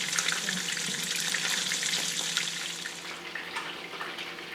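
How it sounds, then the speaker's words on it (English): Wild dove meat sizzles and fries in hot oil in a pan, a dense, steady crackling hiss that runs on close and continuous with no talking. "Once the oil started really getting hot, I went ahead and turned it down to like a medium temperature, just so that it wasn't blowing all over me"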